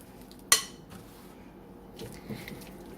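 Moist, sticky blueberry biscuit dough is mixed in a bowl: one sharp utensil clink against the bowl, then quiet, intermittent scraping and stirring, faint and close.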